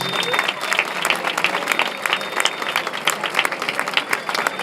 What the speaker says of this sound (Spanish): Fuerte aplauso para vosotros, por favor.